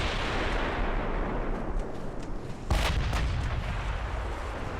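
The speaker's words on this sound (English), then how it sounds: "Big, slow-moving battleship broadside." Heavy naval gunfire from warships in the naval battle game Ultimate Admiral Dreadnoughts: a constant roaring wash of battle noise, then a single loud deep boom near the middle and a few sharper reports after it.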